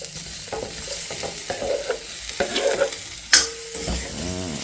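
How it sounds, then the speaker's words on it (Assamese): Pork meat tipped into a pan of browned onions, with stirring scrapes and bursts of sizzling frying, one sharp clatter near the end, no talk. "গাহৰি মাংসখিনি দি দিওঁ"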